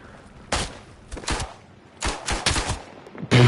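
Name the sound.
gunfire in WW1 video game Isonzo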